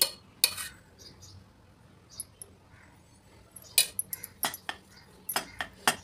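A spoon stirs sattu flour and ghee in a pan over a low flame, giving scattered sharp metallic clinks and scrapes against the pan with quiet gaps between them, close and fairly loud.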